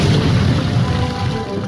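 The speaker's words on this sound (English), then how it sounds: "Just shoot rockets." Rockets fired and exploding in the Roblox game Blox Fruits, a short burst of heavy booming blasts with low rumble, loud and close.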